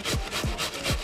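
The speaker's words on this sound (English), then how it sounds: "So now we peel our potato. Just gonna grate it after cooking." A potato is scraped across a grater for latkes in a kitchen, three quick rasping strokes in a steady rhythm, close and clear with no talking.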